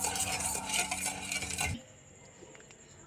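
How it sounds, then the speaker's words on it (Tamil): A spoon scrapes and clinks in a bowl, stirring a sweet milk and egg mixture with sugar, busy and close for under two seconds before it drops to a faint quiet. "கொஞ்சோண்டு சர்க்கரை போட்டுங்க. நல்லா மிக்ஸ் பண்ணுங்க."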